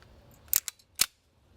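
Cocking handle and bolt of a VFC HK416 airsoft rifle being worked, a few sharp close metallic clacks: a quick double click, a lighter tick, then one louder snap, with no talk.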